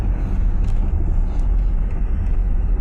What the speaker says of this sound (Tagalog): Ayan lang, maraming sasakyan dito sa baba.